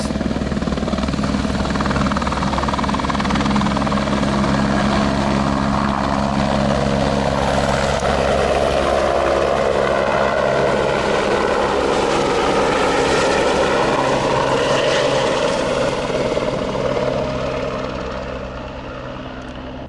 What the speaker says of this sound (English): you probably see the chopper. They're still flying around, having a look.